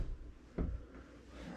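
A soft-close drawer in a shipping container tiny house kitchen shuts with one muffled low thud, quiet against faint room hiss.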